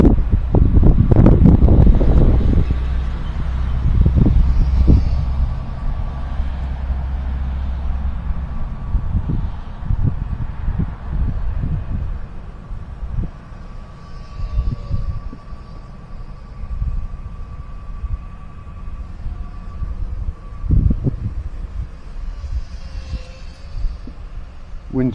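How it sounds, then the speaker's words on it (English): Strong gusty wind blows outdoors and buffets the microphone with a heavy, deep rumble that is loudest in the first few seconds, then settles into steadier, softer gusts with occasional bursts. "It's real windy now."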